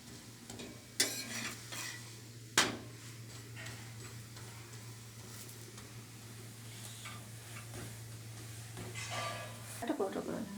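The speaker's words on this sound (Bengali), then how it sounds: "বন্ধুরা এই দেখুন আমার পরোটাটা আমি ভালো করে ভেজে নিয়েছি।" A vegetable paratha frying in a pan gives a soft, low sizzle throughout, with a couple of sharp utensil taps early on and light clatter near the end.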